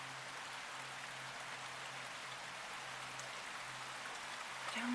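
Steady rain pours down on a dreary wet day near a garden pond, a continuous even hiss that holds at a constant level throughout and swells slightly at the very end.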